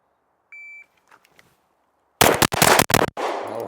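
A BUL Armory SAS II Tac pistol fires a quick string of shots on a range, several sharp loud cracks in rapid succession after a short electronic beep and a pause.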